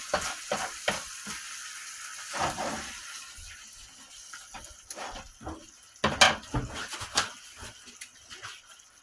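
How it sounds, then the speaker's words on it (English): Intermittent crackling sizzle from a hot pan with brown sugar, with scattered clinks and scraping stirs, moderately close and not very loud. "If you don't hear that sizzle, you're doing something wrong."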